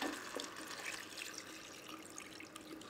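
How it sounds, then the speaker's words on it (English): Water pouring steadily into a stew pot of artichokes and fava beans, a quiet, continuous splashing trickle from close by with no voices. "And now I'm gonna add some water."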